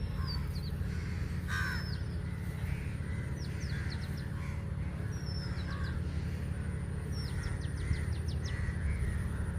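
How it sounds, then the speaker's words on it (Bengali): Several birds call in green countryside among scattered rocks: short, sharp chirps and quick repeated notes sound in bursts across the clip, over a steady low outdoor hum. "পাখিদের আওয়াজ শুনুন খালি,"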